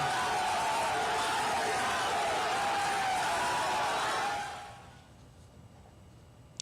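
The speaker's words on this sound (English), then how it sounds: "A huge crowd had gathered at the metro station to greet Prime Minister Modi" A large crowd gathered at a Kolkata metro station to greet a prime minister, a dense roar of voices and cheers that holds steady for several seconds, then fades out to near quiet.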